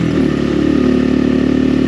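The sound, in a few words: XPro Templar 250 X dirt bike engine riding uphill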